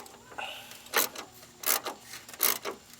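A wrench working 10mm bolts loose on the washer reservoir of a GMC Yukon or Chevy Tahoe, three rasping ratchet-like bursts in an even rhythm, close and fairly loud.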